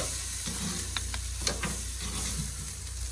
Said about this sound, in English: Go ahead and flip them on that fire one time just to dry them off a little bit.